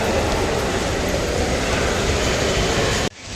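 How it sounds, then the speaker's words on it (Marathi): Steady loud rumbling roar of a train at Shirdi railway station, continuous and close, before cutting off abruptly near the end. "हे आहे शिर्डीचं रेल्वे स्थानक."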